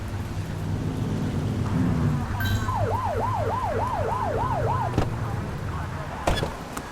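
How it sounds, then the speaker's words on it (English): Police car siren in the video game The Precinct, a wavering wail rising and falling over about two seconds, set against steady rain-like noise with a low hum beneath. "Get behind them and flip the siren to make them pull over."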